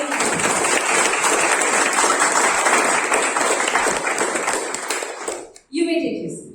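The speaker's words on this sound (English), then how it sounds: "Please give the outgoing round of officers a round of applause for the wonderful service that they rendered." Sustained audience applause for outgoing club officers at an installation ceremony, dense and steady for about five seconds before fading into a brief pause and murmur.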